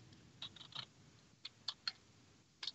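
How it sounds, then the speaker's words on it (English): Quiet clicking of keys on a computer keyboard, irregular clusters of light taps separated by short pauses, close but faint. "You're going to hear me typing"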